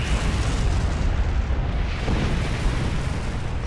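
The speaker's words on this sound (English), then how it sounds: "It's firing indiscriminately." Ship weapons firing in the Star Trek Online space combat game, a dense continuous roar of booming blasts and rumbling impacts, loud and unbroken.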